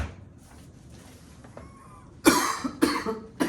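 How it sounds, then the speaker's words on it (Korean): Three sharp coughs burst out in quick succession after a stretch of quiet background noise, fairly close and loud. "아, 그 기침 나네."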